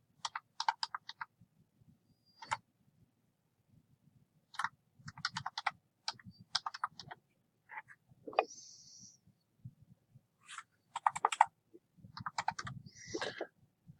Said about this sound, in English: type in name, type in their address,